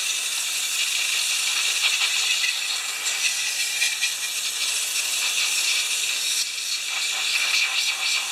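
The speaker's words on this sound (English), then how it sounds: "Carb cleaner." Carb cleaner sprayed from an aerosol can onto a Kohler-engined push mower, a steady loud hiss running unbroken for several seconds with no talking.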